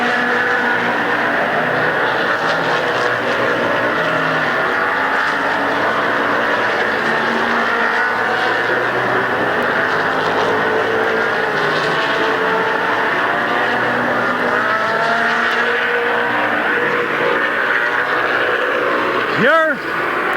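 Race cars circling a dirt oval at Midvale Speedway in 1990, a continuous droning roar of engines at a distance, nearly drowned out by an announcer talking over the loudspeaker, with a brief rising whine near the end.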